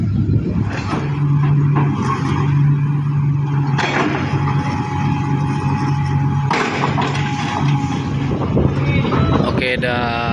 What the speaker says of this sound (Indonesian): Vibro Hamirnya akan parkir di sini ya teman-teman, di tempat sini ya.